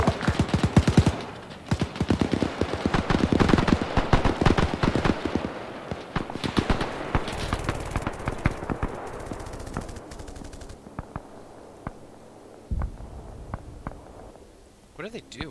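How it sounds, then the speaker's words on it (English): Arma 3 gunfire engaging a half-track, rapid machine-gun bursts and scattered shots crackling loudly, thinning out toward the end with a few isolated cracks. "Charlie sees it, we're engaging."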